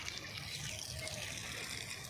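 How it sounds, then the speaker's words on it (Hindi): A garden hose runs water over vegetable plants, giving a soft, continuous gushing hiss at low level across the whole short stretch. "जो पानी चालू थई गयुं"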